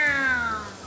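A cat gives a single short, loud meow close by in a kitchen where fish is being fried, alone without talk.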